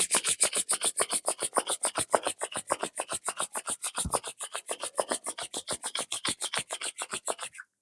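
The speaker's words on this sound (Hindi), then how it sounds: "पाम्स को रब करें" Palms rubbed briskly together during a yoga session, a close, rapid and very regular swishing rasp of about six strokes per second that goes on steadily and then stops.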